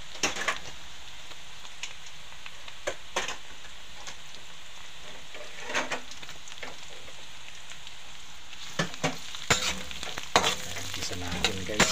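Onions sautéing in a pan while cooking pinapaitan with beef offal: a steady, fairly quiet sizzle with occasional clicks of stirring that come more often near the end.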